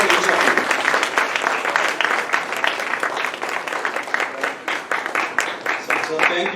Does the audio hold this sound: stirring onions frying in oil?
no